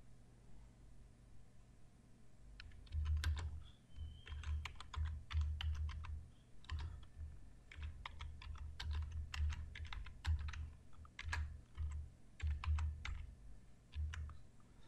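Text being typed on a computer keyboard: rapid, irregular clicking keystrokes in quick bursts over a low hum, close and quiet, with no talking.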